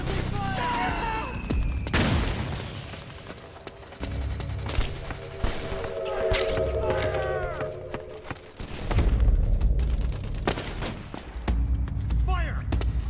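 Gunfire in the video game Metal Gear Solid 4 during a battle, with bursts and heavy booms recurring across the clip over constant combat noise, shouted voices mixed in.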